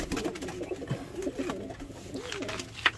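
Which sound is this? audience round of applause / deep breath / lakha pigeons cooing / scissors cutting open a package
lakha pigeons cooing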